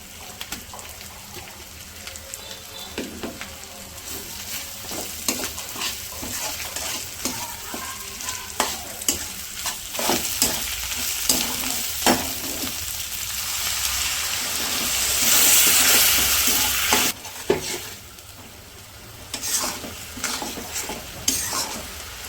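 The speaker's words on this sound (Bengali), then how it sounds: "পেস্টটাতে কিছুক্ষণ বাইজে নিচ্ছি।" Paste frying in a pan during outdoor village cooking, with a continuous loud sizzle under repeated close scraping and stirring strokes, and a sharper hiss surging briefly partway through.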